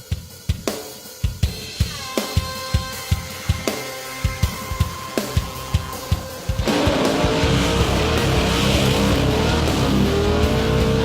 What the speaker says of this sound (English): Making a big impact on the burnout pad this year, Joel Arcus, up from Wellington